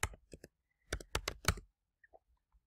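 Keystrokes on a computer keyboard entering text into a spreadsheet cell, a few quick taps followed by a burst of louder clicks, then scattered faint taps in a quiet room.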